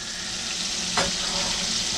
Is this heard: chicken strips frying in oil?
yes